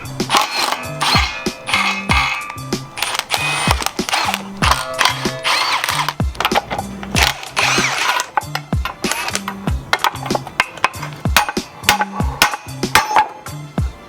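A ratchet wrench clicks in repeated bursts of quick pawl ratcheting, mixed with metallic clanks and knocks from separating tie rods and tension rods from a steering knuckle during suspension work.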